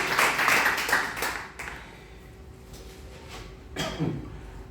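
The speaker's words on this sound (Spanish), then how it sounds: "Dale un aplauso fuerte" A church congregation claps in a burst of applause that fades after about a second and a half, leaving quieter room tone with a faint steady tone and a brief later swell.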